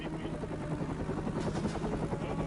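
A military helicopter flies nearby, its rotor giving a steady, rapid chopping throb over a continuous engine drone.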